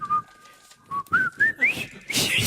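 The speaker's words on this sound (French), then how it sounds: "Elle s'est sifflé le pont de la rivière." A person whistles a film melody in a few short rising phrases, close and clear, with pauses between notes and laughter or breathy noise at the end.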